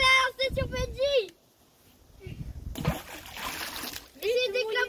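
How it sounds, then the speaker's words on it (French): Children splashing water outdoors, short bursts of splash and spray between loud excited kids' shrieks and voices, with a brief quieter lull in the middle. "Essayez d'éclabousser Benji."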